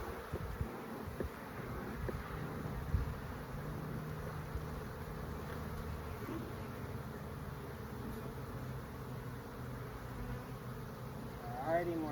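Honeybees hum around an open hive during an inspection, a soft steady buzz with wind noise and occasional handling knocks, fairly faint and close by.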